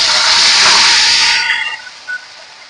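A paste of ground chilli, a quarter of a medium onion and cumin hits hot oil, releasing a loud, bright hissing sizzle that fades over a couple of seconds into softer crackles.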